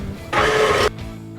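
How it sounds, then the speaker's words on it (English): Electric mixer whisking cake batter on low for a smoked peach bourbon cake, a steady broadband whir lasting about half a second before it cuts off, close and fairly loud with no talking. "then turn it back on and whisk on low"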